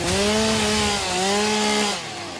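Chainsaw in the Satisfactory video game, a loud, close buzzing whine with rising and falling pitch that revs in two steady bursts before cutting off, with no talking.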